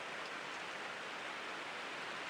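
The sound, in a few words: rain falling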